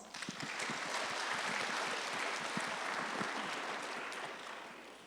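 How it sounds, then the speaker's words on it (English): A high school transition night audience gives a round of applause, a full, continuous burst of many people clapping in a hall, swelling quickly and tapering slightly at the end. "Everyone give her a round of applause."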